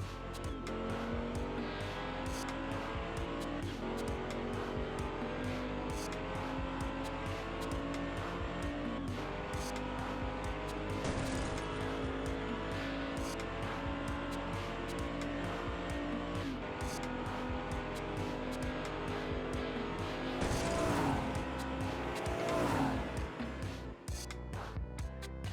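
Hot Wheels toy cars, a pink Dodge Charger against a Bone Shaker, race head to head down a track with a steady rolling, rattling whir throughout, swelling briefly near the end.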